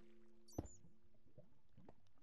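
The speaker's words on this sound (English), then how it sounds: "I definitely heard something that sounded like something splashing in water." A single brief splash in water in the Minecraft video game, one sharp burst over a quiet, steady background.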